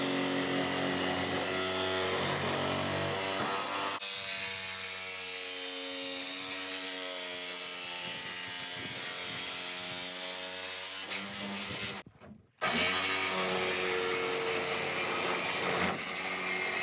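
A power tool cuts a vent hole through the wall of an enclosed trailer during a rebuild, a loud, steady whine running for many seconds, shifting pitch partway through and broken by one short stop before it resumes.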